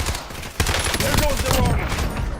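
Dense, rapid video game gunfire hammers continuously in a close, loud fusillade of overlapping shots.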